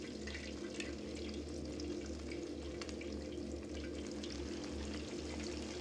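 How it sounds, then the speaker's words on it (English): Chicken sizzling and crackling in hot frying oil, a steady broadband hiss with scattered pops throughout over a low hum, fairly quiet and continuous with no talk. "you dip the chicken in. It sizzles."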